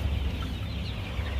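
Kaveri gavran chickens about a month and a half old murmur and cluck softly on a poultry farm, a low, continuous flock chatter under faint background hum, with no voices.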